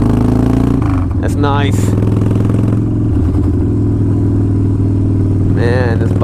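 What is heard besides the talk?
2005 Harley-Davidson Wide Glide motorcycle riding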